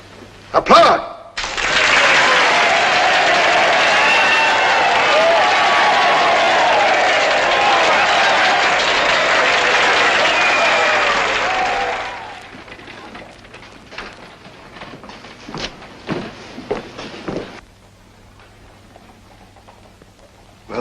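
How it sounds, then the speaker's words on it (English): A crowd bursts into loud, dense applause in a 1949 western film scene, a thick wash of clapping that holds steady for about ten seconds, then fades into scattered footsteps and shuffling. "Applaud!"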